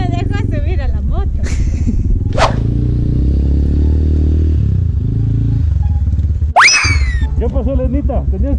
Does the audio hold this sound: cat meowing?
no